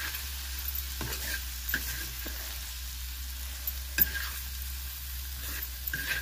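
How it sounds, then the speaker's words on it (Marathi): Onion chutney with spices and crushed peanuts sautéing in a pan makes a steady, close sizzle, with a low hum beneath and periodic scraping taps of a spoon stirring, one clearer knock midway and no talk. "कांदा परतलाय आपला, पण मसाले आणि शेंगदाण्याचा कूट टाकलेला आहे तो परतून घेऊ"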